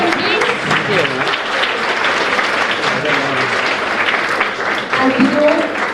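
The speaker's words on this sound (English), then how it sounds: "Can I have a huge applause for the logo of Embrace?" Audience at a mother-and-child healthcare unit launch at Kamineni Hospital applauding loudly and steadily for a logo unveiling, with voices and cheers mixed into the clapping throughout.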